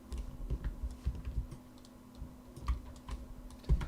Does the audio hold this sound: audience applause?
no